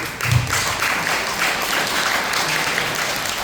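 An audience claps steadily in a sustained round of applause, a dense, even wash of hands throughout.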